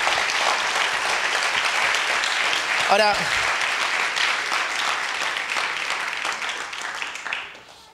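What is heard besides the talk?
audience applause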